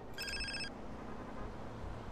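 A phone rings once in the game GTA San Andreas, a short electronic trill near the start over faint background hum.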